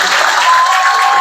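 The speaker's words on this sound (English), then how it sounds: "Let us give them a round of applause." Graduation ceremony audience applauding at a college, a dense, steady wash of clapping hands with faint crowd noise mixed in, continuous and fairly loud throughout.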